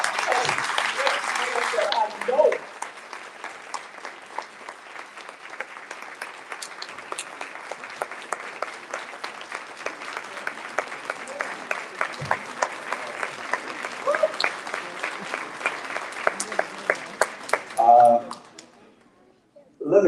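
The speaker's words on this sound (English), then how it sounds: "please give this man a round of applause" Town hall meeting audience breaks into applause, a dense burst of clapping that swells and carries on steadily for most of the stretch before tapering off, with a voice speaking briefly over it.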